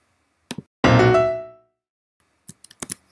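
Solo piano plays a phrase from Boulez's Second Sonata: a two-note left-hand chord and a quick rising right-hand triplet, with one loud chord ringing and decaying and sharp staccato notes around it.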